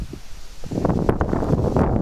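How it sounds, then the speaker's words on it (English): Wind gusts outdoors at a rifle range, a broad low rumbling buffet that swells midway and stays close and steady under faint rustling, with no voices. "A lot of wind."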